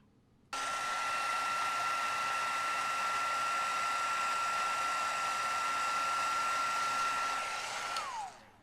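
Heat tool running steadily at close range while heat-setting embossing powder on a handmade card, a constant loud blowing whir with a thin high whine, starting abruptly and cutting off near the end.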